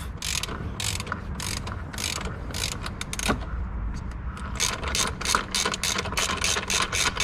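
A ratchet spins freely off a loosened 22mm crank pulley bolt on a BMW E90 320d, giving rapid repeated clicking bursts up close over a low mechanical background.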